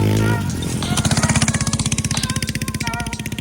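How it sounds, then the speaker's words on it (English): A small 125cc pit bike engine revs and chugs close by, its rapid pulsing exhaust beat rising and then easing back into a rhythmic, throbbing idle-like putter. "a little air there on the little 125 pit bike"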